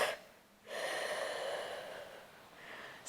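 A long forceful exhale through the nose and mouth during a Pilates exercise, starting with a short breath, then a steady airy rush that fades, close and alone.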